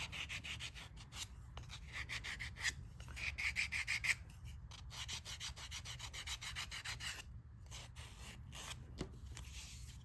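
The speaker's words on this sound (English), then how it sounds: "you like to go all the way around and just sand some of that off" Steady hand sanding with sandpaper, a continuous rough rubbing rasp in repeated strokes, close by and moderately loud, with no voices.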